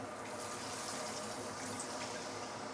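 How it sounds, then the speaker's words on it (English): Hot water pours steadily into a pan of sautéed aromatics for braised pork leg, a continuous close splashing rush lasting a few seconds with no talking. "Now we can add in some hot water."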